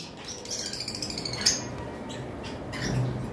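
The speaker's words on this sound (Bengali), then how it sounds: "এই হলো আমাদের হোয়াইট কাটথ্রোট ফিঞ্চ," A caged white-throated finch offered for sale gives short, sharp squawking calls, a few scattered bright chirps over faint background noise, fairly close.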